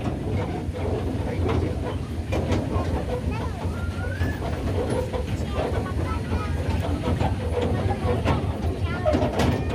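A small toy train circling Padmavathi Gardens rumbles along steadily with a rhythmic clatter, people chatting nearby over the continuous outdoor noise.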